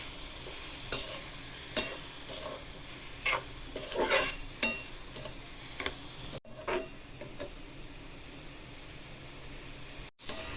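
Grated bottle gourd being stirred and roasted with khoa in a pan, soft scraping strokes at an irregular pace over a steady low sizzle, with a few louder clattering knocks.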